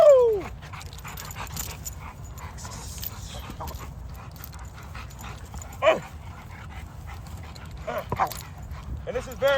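Several high-drive XL Bully dogs yip, whimper and let out occasional short barks, with a whine at the start and sharp outbursts later, while people talk nearby throughout.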